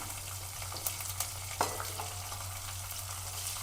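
Crushed garlic and green chilies sizzle in hot oil in a pan while capsicum chitranna is cooked. A steady frying hiss is broken by a few sharp spoon taps and stirring scrapes, with no voices.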